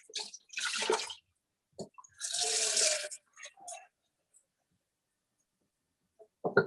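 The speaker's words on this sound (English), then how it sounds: "I'm also getting a little pot of water ready for the asparagus." Tap water runs into a small pot meant for blanching asparagus in a home kitchen, two short gushing bursts with brief clinks and handling noises between them, close by and without talk.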